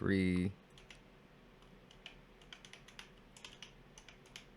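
Keyboard typing in short irregular bursts of light clicks, fairly close, after a brief harmonic voice-like tone at the start.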